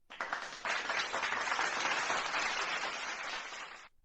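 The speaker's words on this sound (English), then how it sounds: "So let's give a round of applause for Vanguard." Sustained applause from an audience, steady dense clapping lasting about four seconds at moderate distance, with no talk over it.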